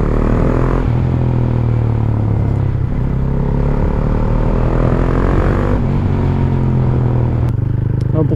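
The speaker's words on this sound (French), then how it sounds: "Mais elle pétarade bien, hein." A KTM Duke single-cylinder motorcycle idling and revving up close, a loud, continuous throbbing engine drone with a few sharp pops near the end.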